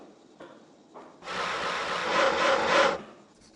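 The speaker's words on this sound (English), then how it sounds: "Cut out the pieces for your sled with the saw." Saw cutting wood pieces for a sled in the Tonka Workshop computer game: a rough, rasping stroke lasting about two seconds after a few faint scrapes, close and fairly loud.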